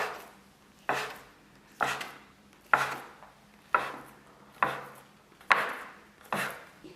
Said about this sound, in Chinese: 切成大小均等的面剂